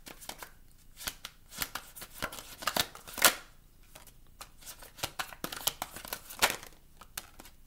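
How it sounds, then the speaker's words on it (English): A Millennial Oracle tarot deck being shuffled by hand, with repeated crisp card riffles and slaps in uneven bursts, close and clear, with no talking. "This is the deck that I'm using, guys. The Millennial Oracle deck."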